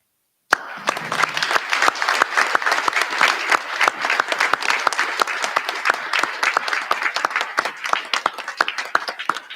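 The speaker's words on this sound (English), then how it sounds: "please stand with Laura and I as we thank Mr. Sullivan for his ongoing efforts and outstanding role with an applaud" Applause from an audience at a Year 12 final school assembly begins abruptly and holds as dense, sustained clapping from a large group, loud and even with no talk over it.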